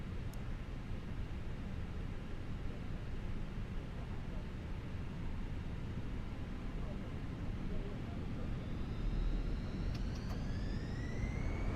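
Simulated A320 jet engines spooling up for the takeoff roll, a steady broad roar with rising whine tones toward the end, loud and continuous with no talk.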